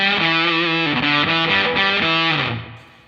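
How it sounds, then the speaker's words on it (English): An electric guitar plays through a fuzz pedal with the Lyla drive switched off into a clean amp, a thick, buzzy distorted phrase of several chords or notes that rings loud and close, then fades out. "Again, Lyla drive off."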